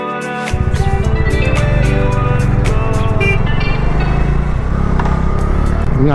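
A Bajaj Dominar 250 motorcycle is ridden slowly along an expressway just past a toll plaza, its engine droning steadily and loud up close with rough low rumble, after a brief quieter start.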